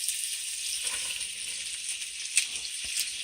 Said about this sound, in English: so we're adding the cabbage